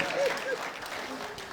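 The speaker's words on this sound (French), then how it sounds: "On va applaudir beaucoup pour tous ceux qui sont venus et qu'on ne va pas entendre" Quiet, fairly distant applause from an audience at a business event, a short, even patter of clapping with a few voices briefly audible on top.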